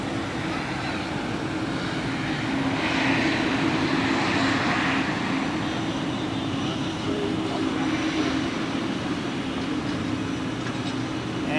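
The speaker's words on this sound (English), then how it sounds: "Some high-speed taxiing here." A jet airliner taxies at speed at Zurich Airport, its engines giving a steady, loud roar and whine that swells slightly in the middle and then holds at a constant level.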